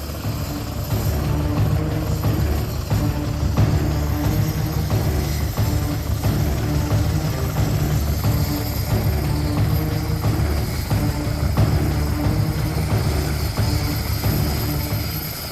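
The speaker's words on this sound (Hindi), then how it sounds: "एक खुले घास के मैदान में आईडीएफ के 2 हेलीकॉप्टर उतर रहे हैं" Two IDF military helicopters set down in an open grass field, their rotor and engine noise a steady, loud, continuous roar throughout with no voices.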